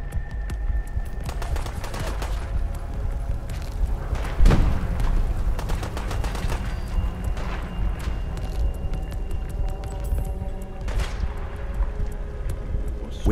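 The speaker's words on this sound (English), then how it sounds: "There was still gunfire." Rapid bursts of gunfire crackle continuously in Fallout 4, with a heavier booming blast partway through, dense and loud in a game-style mix.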